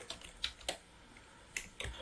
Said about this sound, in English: in the message box, I'm gonna type script